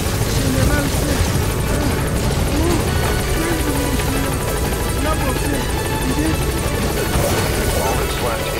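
The Pequot support helicopter arrives at a landing zone in Metal Gear Solid V, its rotor a dense, continuous roar that fills the scene close and loud, while a voice speaks over it.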